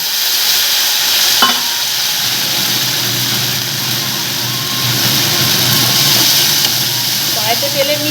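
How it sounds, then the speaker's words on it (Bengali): Ground paste seasoned with salt, turmeric and a little sugar goes into a kadai of hot oil tempered with black cumin, giving a steady, close frying sizzle with faint stirring throughout. "এবার এগুলো যে বেটে রেখেছি লবণ হলুদ দিয়ে মিষ্টি দিয়ে আমি কড়াইতে ফেলে নেব"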